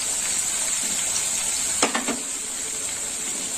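Green chili paste frying in a pan for a moong dal with ridge gourd and prawns, a steady close sizzle throughout with a brief burst of stirring scrapes near the middle.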